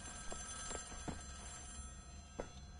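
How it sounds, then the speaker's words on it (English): A telephone rings in the video game Wolfenstein, a few short, faint bell bursts spaced irregularly over a steady low background hum, with no talking. "Phone is ringing."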